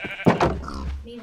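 A Minecraft sheep gives a short, clear bleat up close, standing alone over faint game background.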